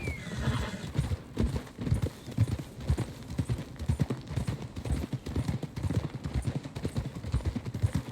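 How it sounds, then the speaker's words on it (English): Steady clip-clop of horse hooves at a walking rhythm in Red Dead Redemption 2, with a whinny near the start; no voices. "Get a hold of that horse, will you?"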